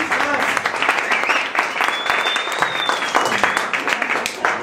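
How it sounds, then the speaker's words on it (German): A loud, dense round of applause from an audience at a premiere of a puppet rock'n'roll circus show, sustained and close, with a faint whistle rising over the clapping. "Und jetzt hätte ich mal gerne einen lauten Applaus."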